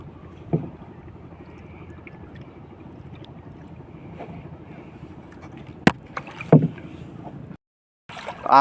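A small boat travelling out at sea, with a steady low rumble of hull and water under wind noise and a few sharper knocks and splashes toward the end.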